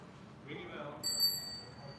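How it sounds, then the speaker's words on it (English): A bicycle bell gives a bright, ringing ding about halfway through, its metallic tone lingering briefly, heard fairly faint beneath a person speaking nearby. "Ring your bell."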